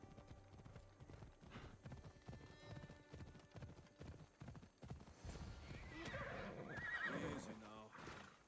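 A horse gallops in Assassin's Creed Odyssey, its hoofbeats clip-clopping in a steady rhythm, with a whinny and background game sounds building toward the end.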